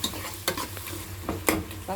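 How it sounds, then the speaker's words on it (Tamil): Onion and tomato masala with a spoon of curd being stirred and sautéed in a pan, scraping strokes at irregular intervals over a steady low frying sizzle, close and moderately quiet. "நல்லா கிளறி விட்டுருங்க. நல்லா வதக்கணும்."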